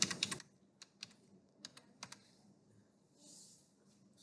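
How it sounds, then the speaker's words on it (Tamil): Someone types on a computer keyboard while entering a comment in an Excel spreadsheet, with a quick cluster of key clicks at the start, then scattered single taps, close and clear in a quiet room. "ஸோ பிளாங்க் ரோஸ் அப்படின்னு டைப் பண்ணுறேன்."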